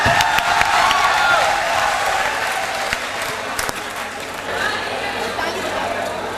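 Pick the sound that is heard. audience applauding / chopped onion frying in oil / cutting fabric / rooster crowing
audience applauding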